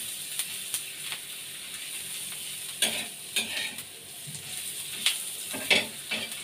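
Onions fry lightly in oil with a steady soft sizzle, broken by intermittent scraping stirs of a utensil in the pan and no speech.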